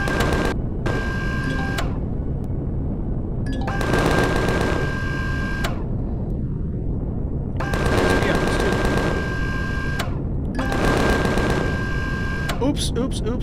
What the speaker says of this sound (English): I shot the wrong guy.